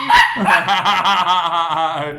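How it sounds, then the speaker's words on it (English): A female pet dog barks repeatedly at nothing indoors, loud close yips and whimpering barks in a continuous run, with no talk over them. "She's barking at the air."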